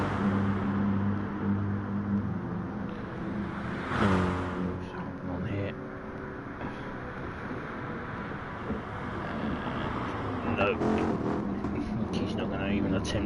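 Race car engines droning on the Tokyo Expressway South Inner Loop in a racing video game, a continuous layered roar with shifting pitch as cars slipstream down the straight, under steady commentary.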